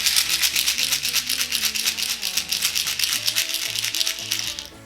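Steady, busy rattling of ibuprofen pills shaken continuously in a pill bottle, close and fairly loud, with no voices.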